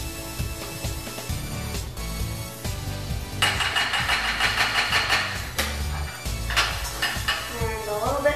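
Mustard being bashed into a pan, with irregular clanking and knocking bursts of metal cookware, a denser clattering stretch in the middle, heard up close and fairly loud.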